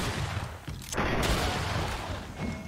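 Gunfire in the video game Greedfall, a burst of loud close shots over dense, noisy combat sound lasting a couple of seconds.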